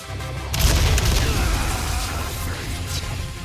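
Explosive barrels in a video game blow up: a deep, booming explosion bursts in after a brief lead-in, followed by a rumbling, crackling tail that slowly fades.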